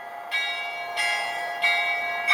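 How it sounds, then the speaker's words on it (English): Church bell of St. Sophia Cathedral in Kyiv, a very tall bell tower: three loud, ringing strikes about two-thirds of a second apart, each with a bright, lingering metallic tone, heard alone. "these are sounds from a bell, either from St. Sophia or from both of them"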